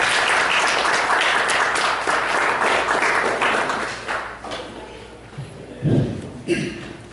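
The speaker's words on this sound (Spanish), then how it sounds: "a cargo del doctor Zenón Depaz, a quien vamos a recibir con un fuerte aplauso" Audience applause at an academic colloquium, broad and steady for about four seconds before thinning out, followed by a few isolated thumps and a brief voice.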